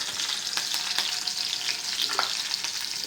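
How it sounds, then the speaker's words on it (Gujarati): Chilies sizzle and crackle in hot oil in a kitchen pan, a dense steady fry with scattered sharp pops and the odd stir. "હવે નાખી દઈએ મરચાં"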